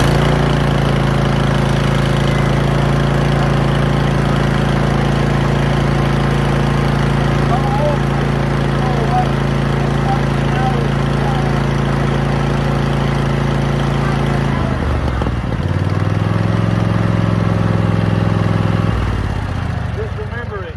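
A lawnmower engine with low oil pressure runs loud and steady at close range, then its tone shifts and drops near the end. A voice can be heard over it.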